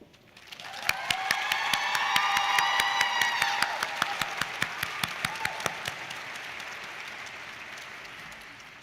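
An audience at a 2022 high school graduation ceremony applauds a graduating student: sustained clapping swells, then gradually thins out, with a few sharp individual claps standing out and faint cheering.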